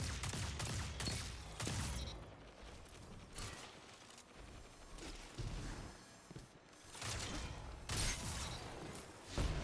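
Video game gunfire crackles in bursts of sharp shots separated by short mechanical clicks and gaps, fairly quiet overall.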